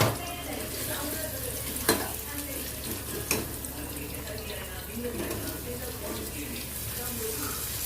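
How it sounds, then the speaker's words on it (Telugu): Coconut pieces frying in oil in a pan for coconut chutney, a steady soft sizzle with occasional sharp stirring clinks, while a person talks over the cooking. "గోల్డెన్ బ్రౌన్ కలర్ వచ్చే వరకు కొబ్బరి ముక్కలు వేయించుకుందాము."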